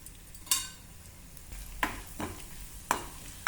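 A spoonful of cumin seeds dropped into hot oil for a Karnataka-style tambuli, giving soft sizzling with a few sharp clinks and stirring scrapes from the pan.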